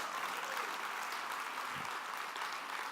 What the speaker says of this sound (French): si vous applaudissez, applaudissez vraiment en bon cœur